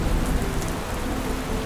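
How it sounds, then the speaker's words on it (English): Heavy monsoon rain pours in the Ghats, a close, loud, unbroken wash of drops with no voices. "It's still raining."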